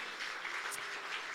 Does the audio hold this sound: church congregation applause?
yes